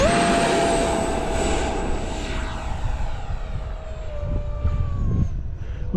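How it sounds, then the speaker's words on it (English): An FMS BAe Hawk RC model jet takes off with flaps set, its ducted-fan engine producing a loud steady whine that holds close and strong, then a rising tone sweeps across as the jet passes overhead. "I'm going to go ahead and do a takeoff with takeoff flaps"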